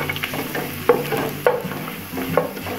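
Ginger sizzles in a hot pan while a spoon stirs it, giving a steady frying hiss with a few distinct scraping strokes at irregular intervals.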